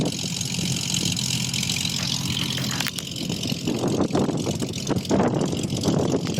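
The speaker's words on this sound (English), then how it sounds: "you get a little bit of sound back here, but not much at idle" A 1963 Ford Falcon with dual exhaust idling, a steady low engine murmur heard from behind the car, fairly quiet and even, with a few clicks and knocks over it.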